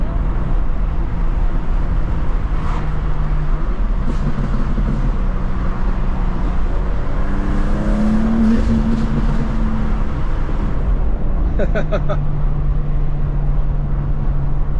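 Inside a 900hp turbocharged BMW G87 M2 on the road, a loud, steady cabin drone of engine and tyre noise rolls on, with a rising whine in the middle and a brief harder burst of power toward the end.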